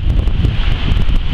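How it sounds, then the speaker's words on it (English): Steady wind buffets the microphone with a low, continuous rumble and rushing hiss, loud and unbroken, with no voices. "Really windy when you get out of this"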